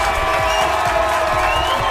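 Simulated crowd cheering plays in a steady, dense wash of many voices and some clapping, loud and continuous from start to finish with no pauses.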